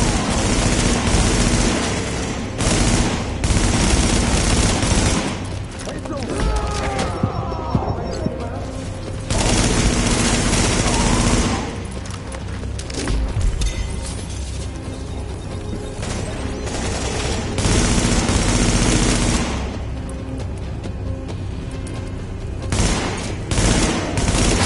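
Gunfire in a PS4 video game comes as repeated dense bursts of rapid shots and booms, loud and close, broken by short quieter gaps and mixed with game sounds; no one talks.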